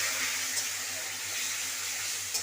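Water poured into a pan of sautéed spice paste while cooking egg kosha, a steady hissing splash that runs unbroken at close range, with no voices.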